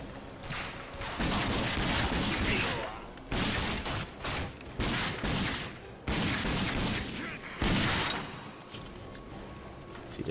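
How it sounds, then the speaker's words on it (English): Gunfire crackles in repeated bursts during a firefight in the video game Rage. The shots are loud and dense, with short gaps between volleys. "I probably just fired a couple shots that didn't need to be shot."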